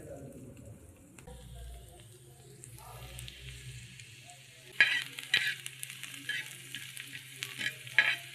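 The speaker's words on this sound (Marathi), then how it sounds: "झाला आपला कांदा तळत आलेला आहे." Onion frying and being stirred in a pan for a Maharashtrian val bean pod bhaji, a soft steady sizzle with scraping stirring strokes that grow sharper and louder toward the end, with no talk over it.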